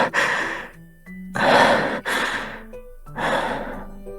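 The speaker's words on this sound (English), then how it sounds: "He's slightly panting." A man breathes in slight pants in a Love and Deepspace scene, three or four close, breathy exhales and sighs spaced about a second apart, with soft background music tones between them.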